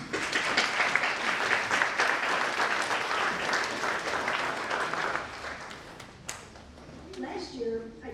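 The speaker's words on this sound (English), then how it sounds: "So I'd like to give you a round of applause for your support." A crowd at a nursing pinning ceremony breaks into dense, sustained applause for the graduates' supporters, which tapers off after about six seconds as a voice begins speaking.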